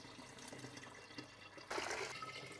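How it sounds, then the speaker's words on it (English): Water splashes and rushes for about half a second as leftover ginger is rinsed out of brewing pots during home ginger beer making, following a quieter stretch of faint kitchen background sound. "I can just use this water to wash out my pots, get whatever ginger's left in them."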